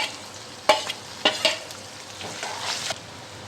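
Tomato, green chilli and coriander fried with onion in a pan, with a few sharp stirring scrapes and a soft, steady sizzle that rises briefly near the end, with no talking.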